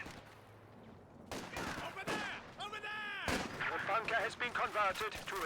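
Sharp gunshots and a rapid, echoing volley crack out in a competitive team shooter match, close and loud, layered over a busy background of battle noise.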